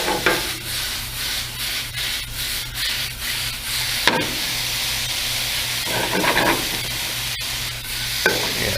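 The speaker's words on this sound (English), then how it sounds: "Once the pan is almost dry, I'm gonna add in my capers." Capers with a splash of their brine tossed into a nearly dry hot pan for a fish dish in cream sauce, giving continuous close scraping and rubbing with a light sizzle and a few sharper knocks.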